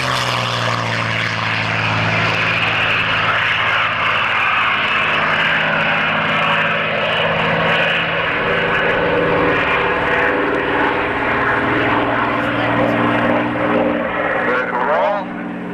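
Propeller-driven aircraft flying aerobatic manoeuvres at an air show at Matamata Airfield, its engine drone loud and steady throughout with shifting pitch as it climbs and rolls, while a commentator talks over it.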